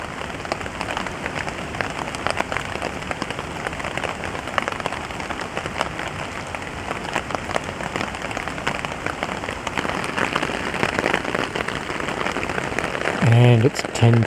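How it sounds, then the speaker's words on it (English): Rain falls steadily on a camping tarp at night, a dense, even patter of drops drumming close overhead without pause. "Love the sounds of rain on the tarp"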